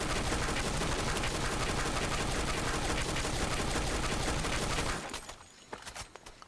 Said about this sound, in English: So let's get a bit of a more rapid tap fire going.